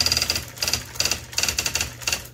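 An IBM Wheelwriter 18-inch electronic typewriter with a strong striking force, just repaired, types a rapid series of sharp, close mechanical strikes in uneven bursts, with no voices.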